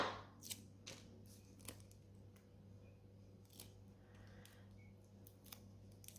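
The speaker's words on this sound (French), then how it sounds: "vous coupez du scotch" Scissors snip through adhesive tape during a paper-flower craft, a string of quiet, crisp clicks and cuts spaced irregularly over a faint steady hum, with no talking.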